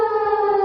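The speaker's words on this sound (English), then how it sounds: "this is how the chicken plays the siren" Siren in a chicken farming video game built in Unity, a loud, steady civil-defense-style wail with a strong held tone and rich harmonics, heard alone for under a second.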